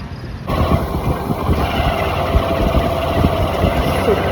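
A motorbike engine idles in a parking area, starting abruptly after a short silence and then running as a steady, vibrating mid-pitched rumble with a faint whine, close and continuous.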